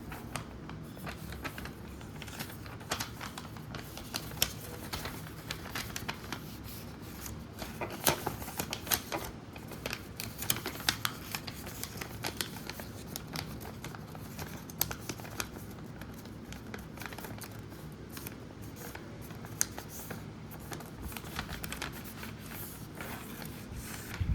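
Paper is folded and creased into an origami envelope, with soft continuous rustling and crisp crinkles, close and fairly quiet, running steadily throughout with no talking.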